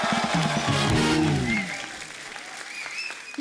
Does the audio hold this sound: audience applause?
yes